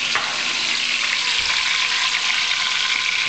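Garlic sizzling in a pan of hot olive oil and butter, a steady, close, dense crackle and hiss that runs without a break and with no voices.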